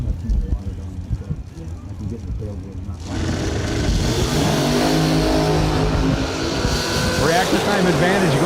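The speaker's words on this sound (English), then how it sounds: "Left lane now, Barry Brown, dialed 442 in his supercharged entry" Supercharged drag racing cars launch down the strip at a drag racing event: a quieter stretch gives way to a sudden, sustained roaring engine blast, with an announcer talking over it.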